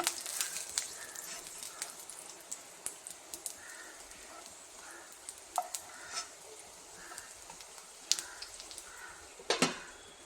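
A rice flour and egg snack fries in a pan and gets flipped: scattered sharp metal clinks and scrapes of a utensil ring out over a faint steady sizzle, with a cluster of louder knocks near the end and no talk.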